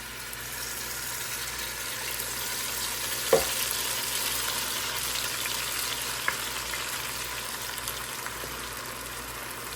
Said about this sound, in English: I push it to the side and I add my green seasoning